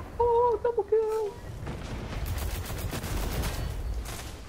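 Gunfire in the Destiny video game crackles in a rapid, fairly loud stream after a short burst of tonal game sound at the start, with no talk over it.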